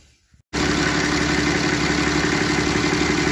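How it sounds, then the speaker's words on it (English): A 2008 Dodge Ram 6.7L diesel pickup engine with a turbo speed sensor circuit low fault starts up and settles into a steady, loud idle with a constant low rumble and no voices over it. "now you can hear the engine running"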